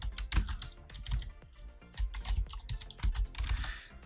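Close, crisp computer keyboard typing as C++ code is entered, with quick irregular bursts of keystrokes separated by short pauses and no voices.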